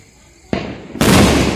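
A firecracker bomb going off outdoors during a Dev Uthani Ekadashi celebration: a sharp crack is followed about half a second later by a loud, close blast whose roar lingers to the end.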